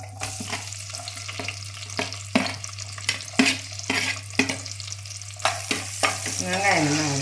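Onions fry in a pan for beetroot rice with a continuous close sizzle, broken by repeated scraping stirs and clicks of a spoon against the pan, over a low steady hum and with no speech.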